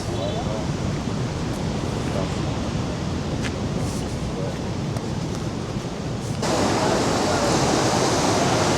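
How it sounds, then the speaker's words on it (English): Ocean surf breaks along the beach at Las Americas, Tenerife, a broad continuous wash of waves that swells louder near the end, with no clear voices. "Just watch the waves and the surfers and relax."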